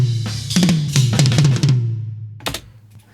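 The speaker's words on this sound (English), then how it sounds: "Let's listen to the First two toms" Two toms of a metal drum kit processed with EQ including a mid boost, struck in a quick series of resonant hits followed by a final lone hit, close and punchy with no talk.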